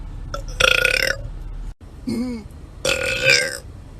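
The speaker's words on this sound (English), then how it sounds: "Weird talent number 1, I can burp on command." A young woman with red hair burps on command in a Starbucks line, producing several loud, close belches with short pauses between them.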